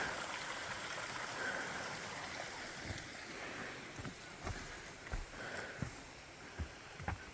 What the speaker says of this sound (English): Appears to be some water running here.